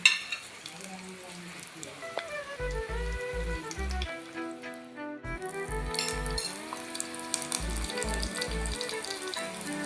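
Mustard seeds and dried red chillies sizzle and crackle in hot oil in a pan, with a steady frying hiss and scattered pops, over louder background music with a regular beat.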